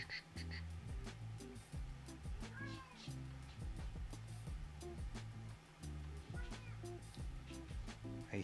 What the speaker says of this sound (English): The cat has entered.